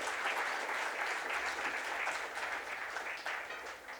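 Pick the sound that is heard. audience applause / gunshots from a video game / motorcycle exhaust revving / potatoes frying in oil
audience applause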